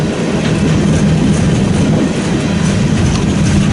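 Freight train rolling along the line toward Omaha near Fremont, Nebraska, a loud continuous close rumble of wagons and wheels with faint rhythmic clatter, steady throughout.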